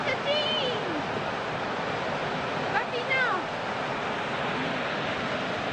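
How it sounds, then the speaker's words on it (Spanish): Steady roaring rush of falling water at the Chachín waterfall in Argentina fills the scene while a few voices call out briefly above it. "La cascada de Chachín."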